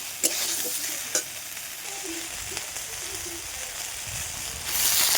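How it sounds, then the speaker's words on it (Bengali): Onions sizzle in hot oil in a wok, a continuous close frying hiss with a few sharp clanks of a spatula as they are stirred; no speech. "দেখুন পেঁয়াজগুলি দিয়ে দিয়েছি"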